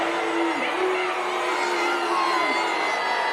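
A home basketball crowd at a high school game roars and jeers steadily at a referee call, a dense sustained wall of voices with shouts and whistles rising above it, no break throughout.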